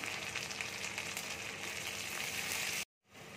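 Yellow bell pepper and capsicum hit hot oil with garlic in a frying pan, giving a loud, dense, close sizzle that cuts off abruptly and then resumes more faintly.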